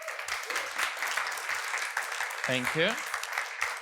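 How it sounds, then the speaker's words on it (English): Steady audience applause fills the room, with a voice briefly speaking over the clapping near the end. "A round of applause first."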